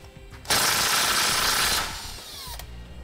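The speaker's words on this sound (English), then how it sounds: "It's going to use a half inch diameter socket. We're going to just run it until it makes threads." A power tool with a half-inch socket drives a thread-forming bolt, cutting threads for an air helper spring bracket on a 2009 vehicle, a loud, close, sustained whirring grind of about a second and a half that trails off, with no speech.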